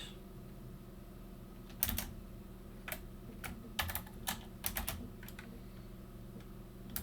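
Commands typed on a computer keyboard while configuring BGP route filtering on Cisco routing equipment; scattered quick keystrokes in short bursts and single taps, close and fairly quiet over a faint steady hum.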